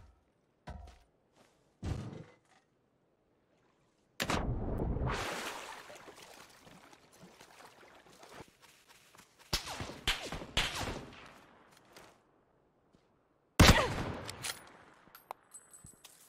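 Video game gunfire crackles in separate bursts: a few sharp single shots, then longer rattling volleys with echoing tails and a loud late burst, set against near silence between them.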